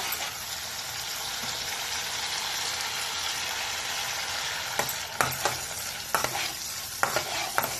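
Cashew and poppy seed paste being stirred into a sizzling paneer roast masala, with a steady broad fry hiss throughout and several sharp spoon scrapes and clinks against the pan in the second half.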